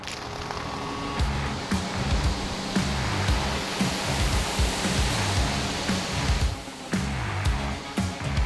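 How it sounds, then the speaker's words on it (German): A new airport fire truck's pump runs as the main water-tank valve opens, sending a steady, loud broadband rush of water from the outlets, with low engine rumble beneath and brief clicks along the way. "wenn wir schnell Wasser starten, hören wir es ja gerade, startet die Pumpe, Wassertank-Hauptventil geht auf"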